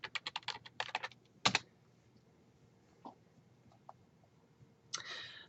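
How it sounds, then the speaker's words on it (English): Keys clatter on a computer keyboard as a search term is typed, a quick burst of close clicks followed by a few isolated taps and a final short flurry in a quiet room. "I'm going to go ahead and type in my search topic"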